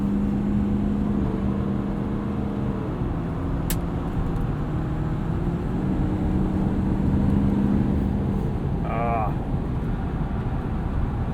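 A 2017 Ford F-250 Super Duty King Ranch pickup driving through a left-hand bend, a steady low engine and road drone inside the cab, with a person talking over it and a brief click partway through.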